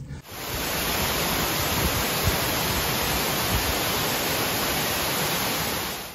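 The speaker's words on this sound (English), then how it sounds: "And what really made the waterfall was the noise it made. It was such a roar when you heard it" Steady, dense roar of a large waterfall spreading across rocks near Isafjordur, Iceland, a continuous broadband rush that stays loud and unbroken throughout with no voices.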